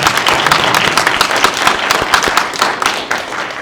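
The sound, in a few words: audience applause for the family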